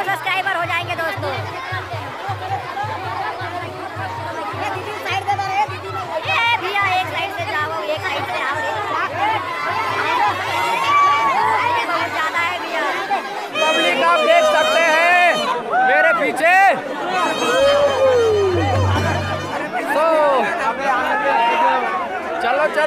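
A large, dense crowd at the Kharradhar fair, with constant babble and shuffling heard up close, plus a low droning hum through much of the clip and nearby voices on top.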